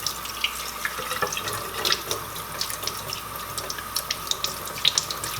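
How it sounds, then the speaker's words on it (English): Tap water runs steadily through a strainer of blue tomato pulp and seeds in a sink, a close splashing stream with small irregular spatters and drips, no voices. "I'll start running water through it"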